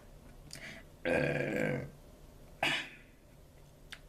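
A single burp from a person, with a broad noisy swell lasting under a second, then a shorter gulp-like sound and a faint click, all fairly quiet and alone without talk.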